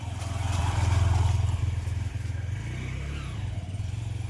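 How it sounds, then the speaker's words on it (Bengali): At night a motorbike passes by, its mid-pitched engine hum swelling loud around the first second and then settling into a steadier, fainter drone as it moves on. "এই দেখুন রাতে 2-3টায় বাইক যাচ্ছে।"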